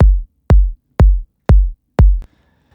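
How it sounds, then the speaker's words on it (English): Five deep, punchy kick drum hits land evenly every half second, each with a short decaying low boom, produced with the Kick 2 plugin and parallel compression through a Supercharger compressor for organic house. "The kick sounds like this."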